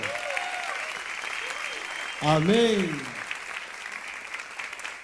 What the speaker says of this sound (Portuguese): Eu queria que você aplaudisse ao Senhor